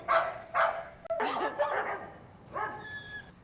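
Dogs at an animal shelter bark in short bursts: two sharp woofs, then a rapid run of yips and barks, ending in a higher whining yelp, close and fairly loud.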